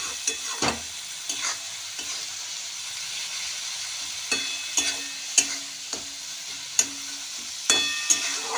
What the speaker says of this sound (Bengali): একটুখানি মশলাটা নাড়িয়ে নিয়ে ডালটা দিয়ে দেবো